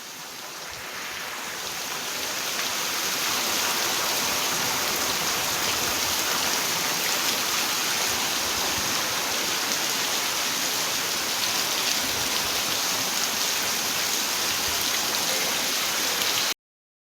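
Steady rain pours down on a farm field, building up over the first few seconds into a dense, even hiss that stays constant and close, with no voices.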